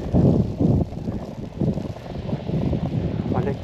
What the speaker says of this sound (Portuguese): e o vento tá forte aqui